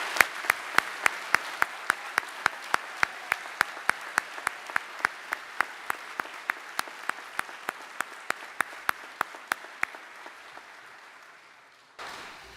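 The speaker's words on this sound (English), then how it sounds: "Would you please all join me in a big round of applause recognizing these great cadets up here" Applause from a graduation ceremony crowd honoring the 2015 graduating cadets at Hargrave, a long, steady wash of clapping punctuated by regular sharp claps, gradually thinning before cutting off near the end.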